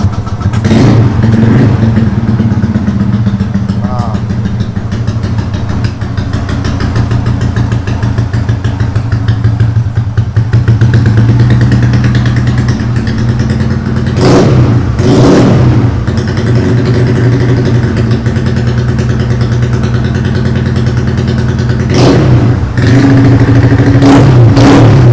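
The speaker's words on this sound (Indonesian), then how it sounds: "sekarang kita coba nyalain di motor yang bukan standar" A modified automatic scooter engine idles with a loud, buzzing mid-pitched drone, then gets sharp throttle blips, with several quick revs rising and falling near the end, heard close and alone.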